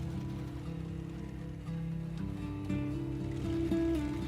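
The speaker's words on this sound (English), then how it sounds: "A weird ticking sound. Yep. Small tractor, not a truck." A small old tractor engine in the SnowRunner video game runs with a steady, close, low mechanical drone that steps up in pitch partway through and holds, with no voices.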